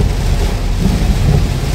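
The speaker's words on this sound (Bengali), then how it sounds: "মুষল ধারায় বৃষ্টি হচ্ছে।" A heavy monsoon downpour roars loud and close, a dense continuous wash of pouring rain with rumbling thunder beneath it and no talking.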